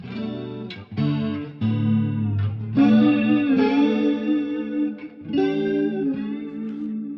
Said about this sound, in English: it is a mix of the delay, it is a mix of the reverb